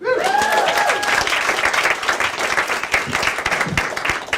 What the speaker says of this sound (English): Make some noise for the next comedian to come on stage